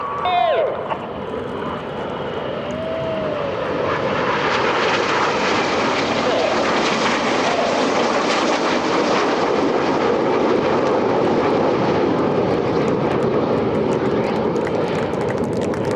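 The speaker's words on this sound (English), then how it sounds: "The aircraft running in from the left are going to fly coordinated rollbacks from the inside to the outside of formation" RAF Red Arrows jets fly a formation display at an airshow, their engines building into a loud, sustained roar overhead that lasts the whole stretch. An announcer's voice can be heard beneath the jet noise.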